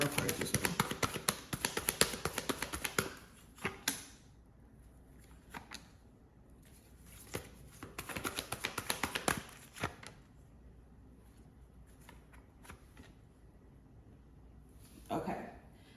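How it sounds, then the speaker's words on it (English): Tarot cards are shuffled and pulled in bursts of quick papery riffling and tapping. The riffles come and go, separated by quieter stretches and single faint taps, all close and soft, with no talking. "we're going to pull some tarot cards as well"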